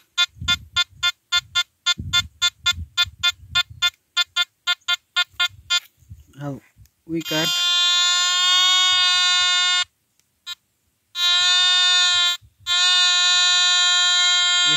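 A Gold Kruzer metal detector searching for gold nuggets sounds a rapid series of short beeps, then long, loud, sustained buzzing tones over a target, broken by brief gaps, with someone talking in between.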